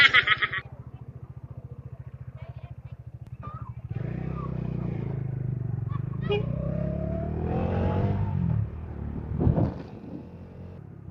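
A Bajaj Dominar 400 motorcycle exhaust idles with a steady close rumble, then revs up in several loud swelling bursts. Voices can be heard faintly in the background.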